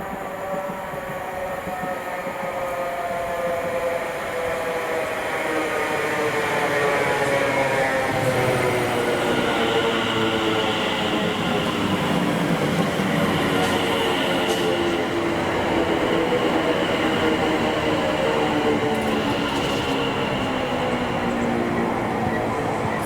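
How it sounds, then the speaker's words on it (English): A Class 720 Hertford East train arrives at a Lea Valley Line station, a steady rising rumble with a whining motor tone and faint rail noise that builds as it draws close, with no voices. "We got the Hertford East train coming in"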